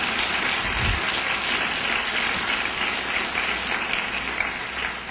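Church congregation applauding at a Sin Muros 2016 service, sustained dense clapping with a full, steady roar throughout and no speech over it.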